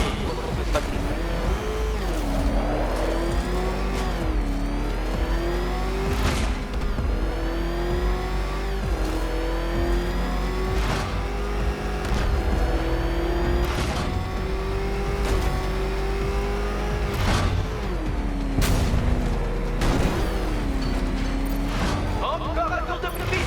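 The Batmobile in Batman Arkham Knight drives and accelerates, its engine droning steadily and rising in pitch with each burst of speed under game music and effects, while voices talk over it.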